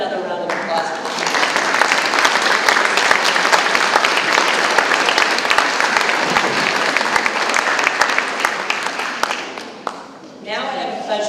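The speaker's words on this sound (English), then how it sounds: "How about another round of applause for you?" A large audience at a corporate panel discussion on digital-era leadership breaks into loud, sustained applause lasting about ten seconds, then fades out as a voice begins talking near the end.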